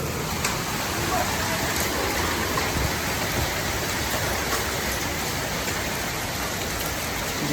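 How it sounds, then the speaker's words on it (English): Hail pelts steadily into a backyard swimming pool during a storm, a dense, constant hiss of tiny impacts and splashes holding at the same loud level throughout with no pauses. "you can see the hail dropping in the pool."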